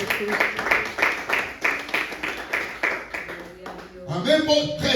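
A church congregation claps in a rhythmic, pulsing beat of roughly steady strokes, with a voice heard at the end as the clapping gives way.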